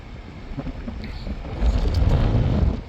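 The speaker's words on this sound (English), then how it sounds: "It's still windy now." Wind blows in steady gusts, swelling into a heavier low rumble of buffeting air partway through, with no clear voices.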